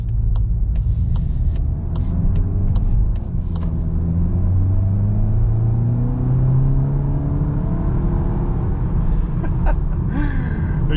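A 2022 Volkswagen Golf Mk8 GTI accelerates with its shifter in S, the engine note climbing steadily in pitch through the gears with a loud, continuous rumble and no talk, ending in a few faint clicks.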